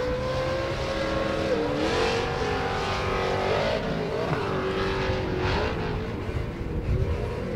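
A Pro 2 off-road race truck engine roars and revs continuously at a short course race, pitch rising and falling as it accelerates, loud and close throughout.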